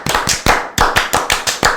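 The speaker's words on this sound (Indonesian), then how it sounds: "Tepuk tangan dulu ya. Oh, ya, Tepuk pramuka." Scout-style rhythmic clapping, tepuk pramuka, done by a few people at close range in a podcast studio: crisp, loud claps in a patterned beat of quick groups and accented single hits.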